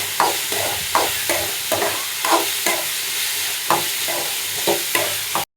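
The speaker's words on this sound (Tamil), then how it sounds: "ஒரு 5 நிமிஷம் நம்ம இது மாதிரி எண்ணெயிலேயே தாளிச்சிடணும்." Carrot poriyal stir-frying in hot oil, with a steady sizzle and repeated scraping strokes of a spoon stirring at a regular rhythm, close and fairly loud, with no voices.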